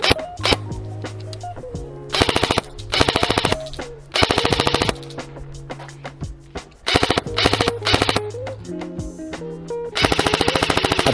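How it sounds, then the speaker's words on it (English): Classic Army DT-4 double-barrel M4 airsoft gun firing in loud rapid full-auto bursts, several strings of fast mechanical cracks separated by short pauses, close and alone. "This is a really fun gun to shoot"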